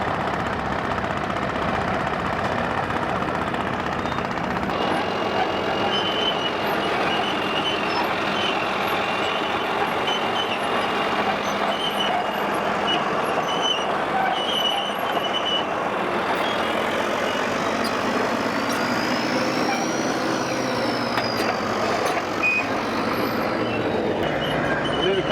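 A Caterpillar D9 bulldozer engine drones steadily nearby in an outdoor setting, a continuous heavy diesel roar with a faint rising tonal whine partway through and some distant voices under the engine.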